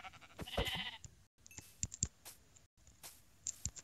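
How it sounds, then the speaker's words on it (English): Sheep bleating in the Minecraft video game, a few short game bleats separated by brief silences, with sharp clicks between them. "I'll finish off by killing a little bit of sheep."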